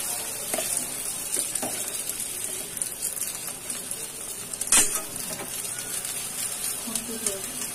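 Egg omelette with puffed rice frying in a pan, a steady faint sizzle with occasional small clinks and one sharper tap, fairly close, no talking.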